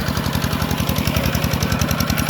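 A walking tractor's small engine runs steadily up close, a loud, fast, regular thumping chug with a mechanical rattle over it, holding an even pace throughout.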